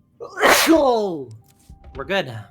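A loud, close sneeze bursts out alone, followed shortly by a person speaking briefly.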